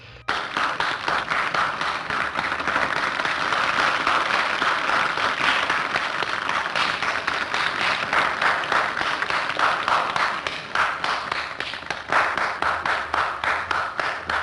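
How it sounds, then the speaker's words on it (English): Sustained applause from an audience, dense steady clapping filling the whole stretch with no voices over it, dipping briefly near the end before continuing. "This movie gets a perfect 10 out of 10 from me and deserves a round of applause."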